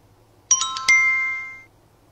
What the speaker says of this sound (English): Her phone looks like it's ringing.